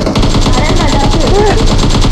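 Rapid automatic gunfire from the PUBG Mobile battle-royale game rattles in fast, even bursts, loud and close, while a player's voice talks excitedly over it.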